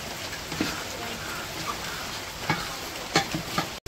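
Meat sizzling and frying with spices in a pot for khichuri, a continuous hiss and crackle with occasional stirring scrapes, close and fairly loud, with brief talk.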